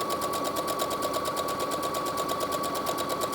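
A sewing machine stitches a seam while making a duster, a steady, close, continuous mechanical whir with a fast even rhythm and no talking.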